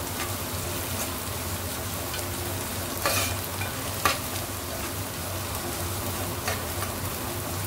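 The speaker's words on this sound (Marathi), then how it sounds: "लसूण थोडा कमी ब्राऊन करायचा" Garlic fries in a pan for a sprouted field bean curry, a dense, continuous sizzle close by with a couple of sharp stirring taps, no voices.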